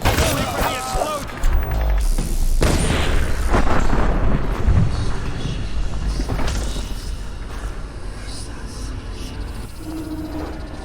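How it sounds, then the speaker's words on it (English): A loud, booming explosion in the stealth action video game Dishonored rumbles and crashes through a busy battle scene, with debris and clattering mechanisms, while voices shout briefly underneath. "Wait for the explosion!"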